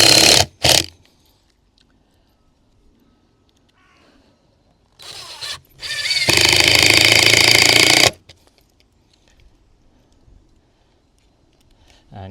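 A power drill driving 2-inch screws into a wooden cold frame base, with short high whirring bursts at the start, a longer sustained drilling run in the middle, and quiet gaps between them.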